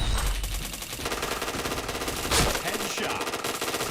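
Rapid automatic gunfire rattles in a shooting video game, dense overlapping bursts with one sharper blast near the middle, loud and continuous with no voices.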